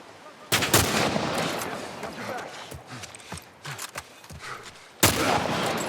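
Revolver shots in the video game The Last of Us Remake, two loud close blasts a few seconds apart with some busy game noise between them.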